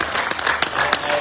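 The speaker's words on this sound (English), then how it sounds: "Let's clap hands for Roger Miller." Audience applause for footballer Roger Milla at a CAF press conference in Côte d'Ivoire, a brief burst of dense clapping with a voice faintly mixed in.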